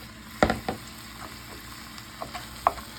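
Two pounds of ground chuck beef frying in a pan while being stirred, giving a few soft scraping and sizzling bursts early on, then quieter intermittent stirring sounds and one more distinct scrape near the end, with no talking.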